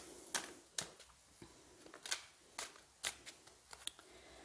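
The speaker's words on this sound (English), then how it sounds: "So I'm going to just do a quick shuffle." Tarot cards being shuffled by hand, with a series of crisp, irregular snaps and riffles, close and fairly quiet, no voices.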